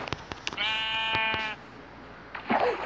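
A sheep in a wildlife video game gives one clear, loud, sustained bleat near the start, framed by sharp clicks and thumps of game sounds and ending in louder rustling effects.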